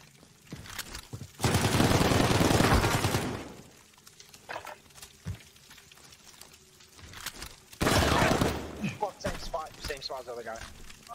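Bursts of gunfire, including shotgun blasts, erupt in Call of Duty Modern Warfare in two dense loud clusters separated by quieter stretches, with voices talking in between.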